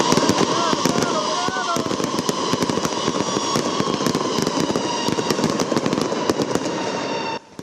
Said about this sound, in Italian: Poco dopo le 6 del mattino i fuochi di Piazza Borgo